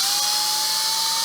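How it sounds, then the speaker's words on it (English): A power drill with a 1/8 inch bit bores a pilot hole through a foam-core entry door, making a steady, close, high whine that runs unbroken and then cuts off. "I'll take and drill it back through the other way."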